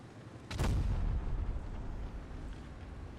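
A tank cannon fires once in a video game, a single loud, sharp boom followed by a rumbling tail that slowly fades.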